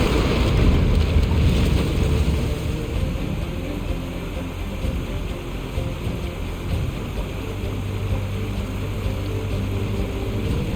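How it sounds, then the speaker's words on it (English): Descending a waterfall in Assassin's Creed Revelations: a steady, loud rush of churning water and wind noise that runs unbroken throughout, with no voices. "And then we go down the waterfall."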